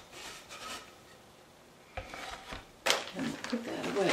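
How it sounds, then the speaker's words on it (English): A cloth wipes sanding dust off a painted piece: soft, close rubbing strokes come in short intermittent bursts, growing busier and louder toward the end. "So I'm just going to wipe that down and make sure I don't have sanding dust on it."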